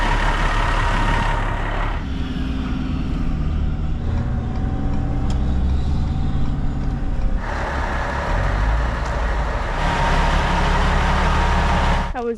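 A 2010 Bumblebee car drives at a car show event in downtown Chilliwack, its engine a steady loud rumble throughout, with surges and heavier passages as traffic and other vehicles sound nearby.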